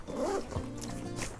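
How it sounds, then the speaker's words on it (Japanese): A zipper on a North Face bag, one with two zips on the top compartment, pulled in a quick close rasping stroke, followed by brief faint rustles and handling noises, with no voices. "上だけ 2つチャックがあるんですよ"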